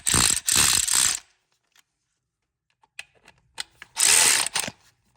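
Fuel injector rail bolts being tightened on a Hellcat engine: two bursts of rapid ratchet clicking, separated by a quiet pause with a few light metallic ticks, close and loud.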